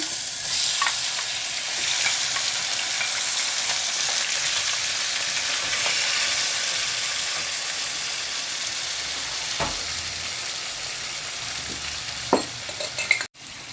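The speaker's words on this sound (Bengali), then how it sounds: "তেল গরম হয়ে গেছে এখন মাংসটা দিয়ে দিচ্ছি" Chicken pieces frying in hot oil in a pan for chicken ghugni, giving a steady, close, loud hissing sizzle that runs unbroken for over ten seconds, with a few faint clinks and a sharp clatter near the end.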